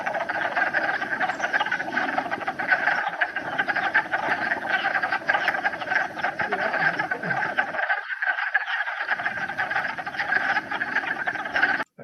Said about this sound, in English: you're probably all familiar with the sound of wood frogs